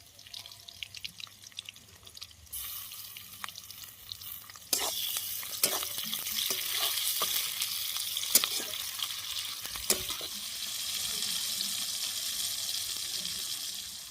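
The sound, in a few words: dried raw mango and tomato frying in oil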